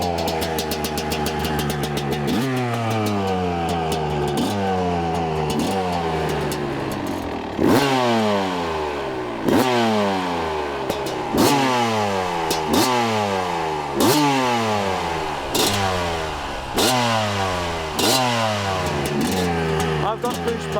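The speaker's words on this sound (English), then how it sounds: "it's time to take this 2006 RM250 for its first ever ride" A 2006 Suzuki RM250 two-stroke dirt bike revs up and shifts repeatedly, each rising engine pitch dropping back at a gear change in a steady series, loud and close throughout.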